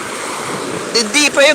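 Ocean waves wash onto a seashore in a steady, loud rush, and a voice cuts in near the end.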